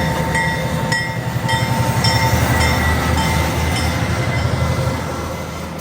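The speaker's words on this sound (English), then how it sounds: "the diesel has to go to the other end so it can pull the next train up the hill" A diesel locomotive runs around to the far end of a mountain tourist train at a Colorado station, giving a steady close engine rumble with rhythmic wheel clatter and faint squeals throughout.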